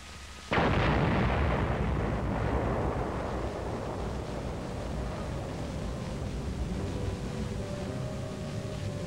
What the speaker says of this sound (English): A nitrate factory smokestack is blown up by an engineer demolition team